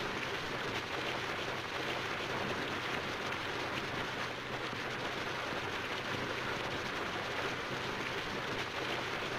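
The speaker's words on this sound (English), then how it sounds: "it's just the rain is the score" Steady, dense rain hisses without pause through a scene of the film Rain starring Joan Crawford, a constant broadband wash with no music and no clear voices.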